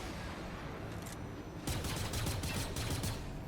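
Fortnite gunfire plays over steady game noise, with a few faint shots early and then a loud rapid volley of repeated shots in the last half.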